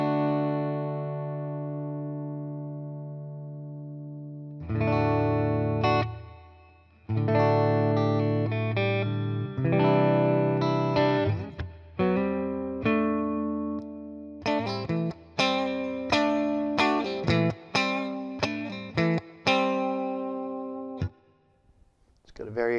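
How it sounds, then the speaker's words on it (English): Electric guitar through a Boss Katana 50 MkII amp with a touch of reverb, playing sustained chords and then a run of short, choppy strums and picked notes, each trailing a brief reverb tail, with no talking. "let's add just a little bit of reverb."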